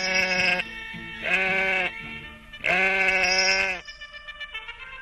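A sheep in an Egyptian radio drama bleats loudly three times in long, wavering cries with short pauses between them, close and clear, followed by softer rustling.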